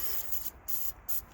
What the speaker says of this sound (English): Kind of spray right in here where they connect in.